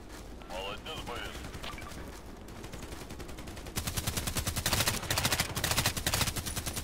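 A silenced custom RPKT machine gun in Contract Wars fires rapid suppressed bursts, starting with scattered shots and then breaking into a long, steady stream of fast, crisp reports. A voice is faintly present early on.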